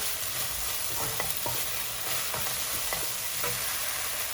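A steady sizzle of frying as sauce with oyster sauce and sugar is stirred in a frying pan, soft stirring scrapes and clinks at intervals, close by and with no talking.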